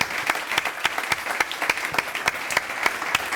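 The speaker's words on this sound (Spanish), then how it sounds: "pido un fuerte, fortísimo aplauso para los tres" Audience at a summer round-table event applauds the three panelists, distinct individual claps standing out sharply in a lively, steady round of clapping.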